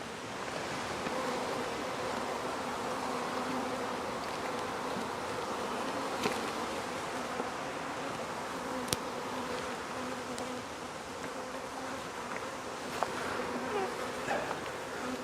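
Bees buzz densely and steadily close by at an open hive, a continuous droning swarm with a few faint clicks and knocks.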